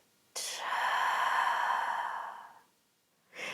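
A single long exhale during a yoga stretch, an audible sigh-like breath out that swells, holds and fades over about two seconds, close to the listener, before the next breath begins.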